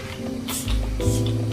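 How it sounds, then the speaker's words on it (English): Two short hissing bursts of a Milk Hydro Grip Set and Refresh makeup setting spray misting, close and soft, over a faint background hum. "Now I'm going to set my makeup with Milk Hydro Grip Set and Refresh Spray."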